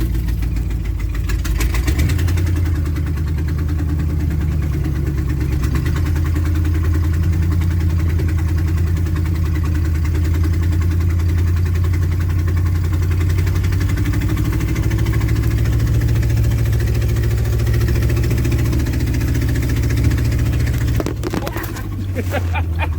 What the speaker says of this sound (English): It runs. Got a huge exhaust leak. It doesn't run very good.